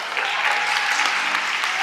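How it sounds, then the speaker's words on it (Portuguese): A church congregation applauding for Jesus during a worship service, a brief, dense and steady wash of many hands clapping together in the room. "Você pode dar uma salva de palmas a Jesus"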